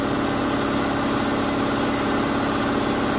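A Husky 30 gallon C304H air compressor runs steadily, a loud, even motor drone with a constant mechanical hum and broadband hiss, no pauses or talk.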